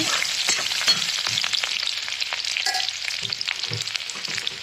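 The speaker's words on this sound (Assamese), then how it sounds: "ভালদৰে পিঁয়াজখিনি ভাজি থাকিব লাগিব।" Chopped onions frying in an oil-filled pan on a gas stove, a steady dense sizzle with occasional stirring clinks and scrapes, close and continuous with no talking.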